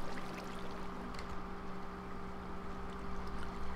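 Water flows continuously in Minecraft, a steady rushing wash with a faint constant hum beneath it and no speech.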